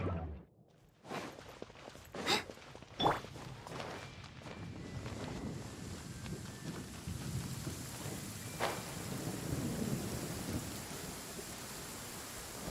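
In the video game Genshin Impact, thunder rolls through rain, with several heavy cracks and rumbles early on that fade into a dull, sustained rumble and steady rainfall, with no voices.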